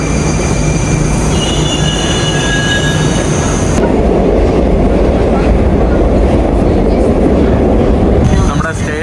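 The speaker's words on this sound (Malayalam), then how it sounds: "ഇതാണ് കേട്ടോ നമ്മുടെ മെട്രോ നല്ല രസമുണ്ട് നമ്മുടെ മെട്രോ ഈ കാണുന്നതാണ്" A Moscow metro train rumbles loudly through an underground station, its wheels squealing with high metallic whines over a continuous roar that shifts partway through as the train changes pace, with a faint voice somewhere in the mix.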